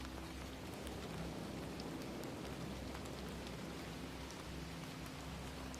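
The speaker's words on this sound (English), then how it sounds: "The rain carried on." Rain falling as a soft sound effect in a bedtime story, a quiet, steady patter of drops on a surface with scattered sharper ticks and a low constant hum beneath, no voice over it.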